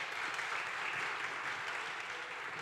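A church congregation applauds during a worship service, a sustained, even wall of clapping filling the room, moderately loud and unbroken from start to finish.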